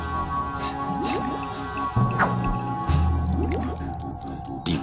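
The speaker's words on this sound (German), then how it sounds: "Teergrube blubberte einladend." A tar pit in the adventure game Harveys Neue Augen bubbles with wet drips, squishes and plops over a low droning ambience, with occasional gurgling bursts.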